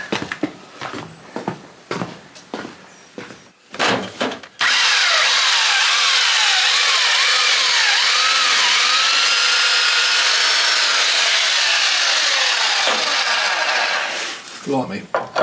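A drill bores into the old stone wall of a cottage under renovation, the bit held in an old-style chuck rather than an SDS max fitting. A loud, steady grinding whine runs for about eight seconds, with brief talk and knocks before and after.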